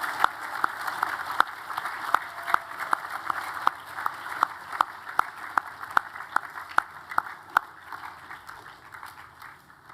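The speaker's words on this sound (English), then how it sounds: "can we give them another round of applause and thank them for coming today?" A school assembly crowd claps steadily for departing guests and high achievers, a dense sustained round of applause with a few sharper individual claps popping out, moderately loud and without talk.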